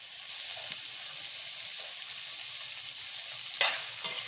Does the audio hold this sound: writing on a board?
no